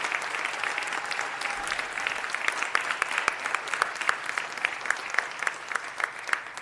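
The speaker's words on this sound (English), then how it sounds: "I want to give him a huge round of applause of appreciation" A crowd at a city council meeting claps steadily, a dense patter of many hands applauding without pause.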